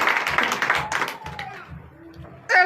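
A church congregation in Comè, Benin, claps in acclamation during a Sunday service. The clapping is short and lively and fades within about a second and a half, followed by a quieter pause and then a brief burst of sound at the end.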